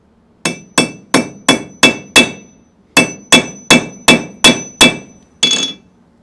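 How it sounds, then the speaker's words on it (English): Twelve sharp, evenly spaced metallic hammer strikes on an anvil as a 22kt gold chain is compressed, in two runs of six with a brief pause between them, then a final heavier blow, close and loud with no talk. "Hammering that gold on an anvil."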